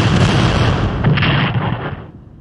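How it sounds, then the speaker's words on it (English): Artillery bombardment from the Strategic Command Civil War strategy game: a dense, continuous roll of booming cannon blasts and explosions, loud and unbroken for a couple of seconds before fading slightly. "first of all, we'll bombard the"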